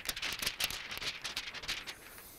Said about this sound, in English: an unfinished piece of membrane sheet and very thin and it would make the noise when you move it like this